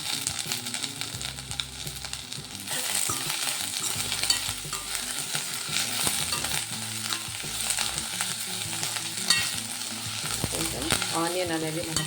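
Onion with curry leaves and green chillies frying in hot oil in a pan for Andhra-style stuffed okra fry, a steady close sizzle and crackle with occasional stirring scrapes throughout.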